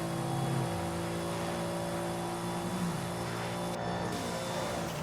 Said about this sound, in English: This is E63 Airlines preparing for takeoff with the race transmission.